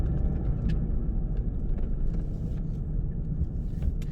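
A 2021 Audi TT Mk 3 Roadster drives in regular mode with a steady, low engine and road rumble heard from inside the cabin, with faint ticks and no talking.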